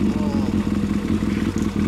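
A 1997 Suzuki GSX400 Impulse engine with a Yoshimura exhaust rumbles loudly up close with a steady, throbbing idle and slight revving pulses, and a voice cuts in briefly.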